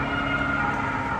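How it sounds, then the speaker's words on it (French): Ambulance sirens wailing steadily along a city street in Lille, France, blended into dense, loud traffic and street noise with no speech. "sous le bruit des ambulances."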